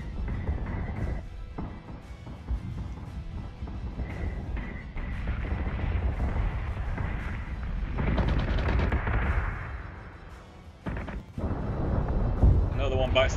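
Space-combat missile launches and explosions from the Battlestar Galactica Deadlock video game, a continuous rumbling barrage of booms and blasts with someone talking over it throughout.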